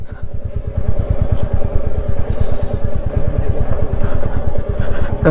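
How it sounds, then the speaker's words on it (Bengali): A motorcycle rides along a road through the tea gardens near Darjeeling, its engine thumping in a steady, fast pulse close to the microphone with constant loud road and wind noise. "আমি বাইক চালাচ্ছি"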